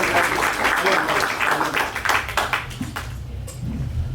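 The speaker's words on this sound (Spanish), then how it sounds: "Vamos a pedirlo, por favor, si le dan un aplauso." Audience at a cultural centre's documentary film series opening giving a round of applause, a moderate wash of clapping that fades out as talking continues underneath and after.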